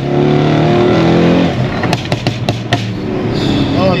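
A tuned 1200 bhp Mercedes E63S carrying four people accelerates hard: a loud, rising engine roar breaks off into several sharp gear-shift cracks, then the engine pulls again, heard from inside the car.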